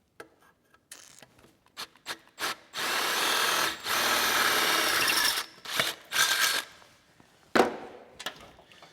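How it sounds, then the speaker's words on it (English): A drill bores a hole into an Akrapovic motorcycle exhaust pipe, starting with short bursts and then a steady whirring run of about two seconds, followed by more brief pulses, close and loud. "now I'm drilling a hole in it"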